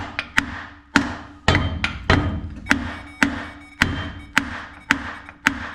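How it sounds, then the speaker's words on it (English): A hammer strikes the starter motor of a 1978 IH Scout II barn find: about ten sharp, ringing metallic blows in an irregular rhythm, loud and close, each decaying quickly, with no talk. "you can hit it with a hammer"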